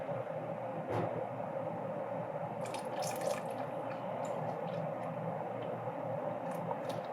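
Chicken broth pouring into a pot of pasta fazool soup, a continuous close liquid rush with small splashes and drips, steady and moderately loud throughout.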